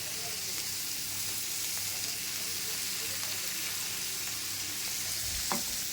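Water taro pieces fry in oil with a steady, even crackling sizzle close by, broken near the end by a brief utensil knock.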